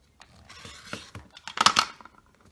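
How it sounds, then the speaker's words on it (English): Fabric is trimmed with a rotary cutter along a quilting ruler on a cutting mat, giving a short series of close, crisp scraping and crunching strokes that peak sharply near the end. "then cut away the excess."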